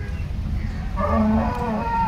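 A Holstein Friesian cow moos at a busy cattle market, a loud, drawn-out low call rising in the second half over steady background crowd and livestock noise.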